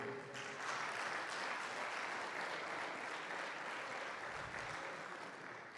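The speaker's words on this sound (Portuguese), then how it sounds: "Você pode aplaudir ao Senhor?" Sustained applause from a large church congregation during a worship service, steady and dense throughout, fading slightly toward the end.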